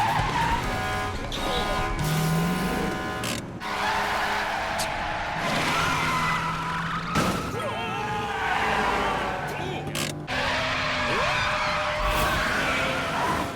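Cars race in a high-speed chase as engines roar and tires squeal in long repeated skids, loud and close, with abrupt cuts between bursts and a voice talking over the action.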